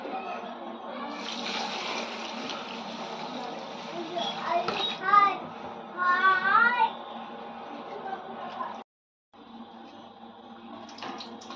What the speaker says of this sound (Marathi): आपण हे तांदूळ आता स्वच्छ पाण्याने धुवून घेऊया तीन चार पाण्याने